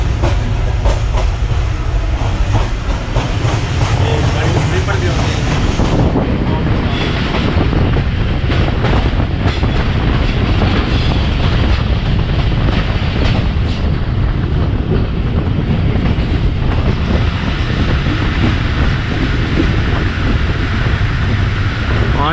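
Mehar Express passenger train running on rails in an AC standard coach between Multan and Rawalpindi, a steady loud rumble with rhythmic clickety-clack of wheels over joints throughout.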